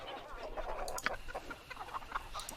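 Chickens cluck in short, busy bursts in Baldur's Gate II, a 2000 BioWare game, layered over a steady ambient game background with no clear speech.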